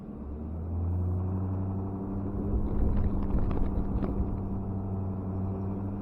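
Truck crawling over rough ground in four-wheel drive at a landfill, its engine a steady, loud low rumble with faint rattles and clunks, no voices.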